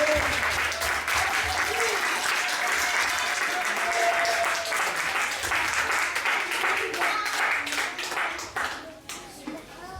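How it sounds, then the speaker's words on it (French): A church congregation bursts into sustained, dense applause with loud clapping filling the room, a few voices rising within it, before the clapping thins and fades near the end. "Est-ce que tu peux acclamer le Seigneur?"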